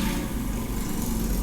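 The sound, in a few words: motorcycle engine outside apartment window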